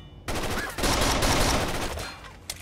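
Loud, dense bursts of automatic gunfire in Rainbow Six Vegas 2 during a terrorist hunt on the Trainyard map, firing continuously for about two seconds, with a sharp single shot at the end.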